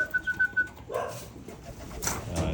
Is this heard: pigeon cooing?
yes